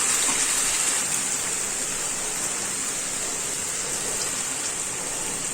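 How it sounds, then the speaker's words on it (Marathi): Water set aside from marination is poured into marinated chicken in a pot, making a steady, even gushing rush. The stream is close and continuous for several seconds, with no talk. "आता मी ह्याच्यामध्ये पाणी टाकणार आहे"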